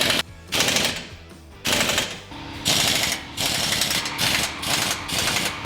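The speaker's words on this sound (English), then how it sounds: "Now I can tighten these bottom cage bolts." Power tool bursts tightening the bottom cage bolts on a Razorback Offroad expedition rack, loud repeated rattling hammering pulses in several bursts with short gaps, close by.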